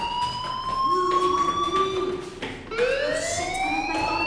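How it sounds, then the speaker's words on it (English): A fire alarm sounds in a school in the Life is Strange game, a loud, steady wailing siren tone that rises and falls in pitch, continuous throughout with no talk. "Hey, do you hear that fire alarm?"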